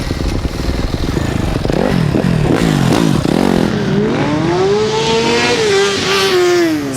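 Motorcycles at an illegal urban rodeo in the Paris suburbs, loud engines revving hard in repeated bursts, followed by one bike accelerating away with a rising, sustained whine.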